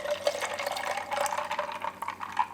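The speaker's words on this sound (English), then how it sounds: "Pouring in there over a little ice." Store-bought peach iced tea poured over a little ice in a glass, a continuous close trickling and splashing stream with faint clinks, with no talk.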